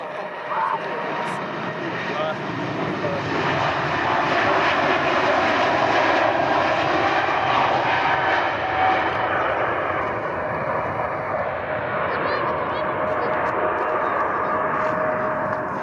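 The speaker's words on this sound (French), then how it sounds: "On va voir un décollage! Oui, mais les moteurs à fond." An airplane taking off at full engine power at Montreal airport, a loud sustained roar heard from a distance, with people talking faintly beneath it.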